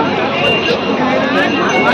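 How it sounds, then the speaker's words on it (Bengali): Dense crowd chatter on busy Old Digha beach, a steady babble of many overlapping voices with no single speaker standing out, continuous and fairly loud throughout. "পুরো ভিড়ে একদম গম গম করছে।"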